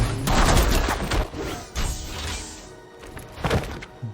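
Gunfire attack in the Battle Chasers: Nightwar video game, a few loud bursts of shots and heavy impacts in quick succession, then a brief lull before another strike.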